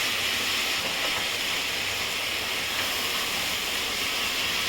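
Red and green capsicum sizzle in a pan over a high flame, a continuous dense hiss with little variation, close and loud, with no talking.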